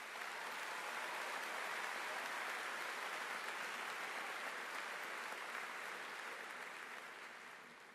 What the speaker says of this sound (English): Let's congratulate all of these students with a round of applause.